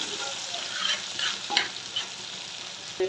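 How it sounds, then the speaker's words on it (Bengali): Hilsa fish sizzles steadily in hot oil in a pan, with a constant bubbling hiss, a few crisp pops and stirring clinks, and no voices. "যেই তেলটা দিয়ে মাছটা বাজছি"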